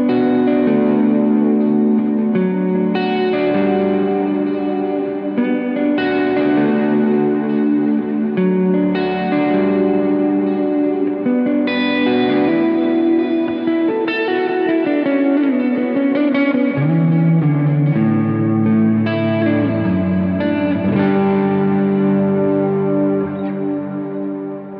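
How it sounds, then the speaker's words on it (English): Sustained Gretsch electric guitar chords ringing out with echoing delay repeats and lush reverb, slow and ambient, played alone at a steady, full volume. "Let's add a little delay to that because I love using delays."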